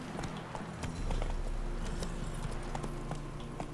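Horse hooves clip-clop steadily in The Witcher 3 video game as the mount trots forward, a fairly loud, even rhythm of repeated hoofbeats with no talk over it.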